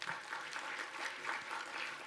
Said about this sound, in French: Puis, on peut l'applaudir.